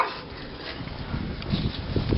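A big white dog gives low, muffled barks and whimpers over a steady background rumble. The sounds grow a little stronger toward the end, and no one speaks.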